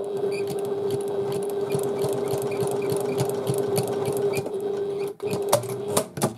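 A sewing machine stitches a short seam on fabric for a domed handbag, a steady close motor hum with rapid needle ticking, then stopping with a few clicks as the fabric is adjusted.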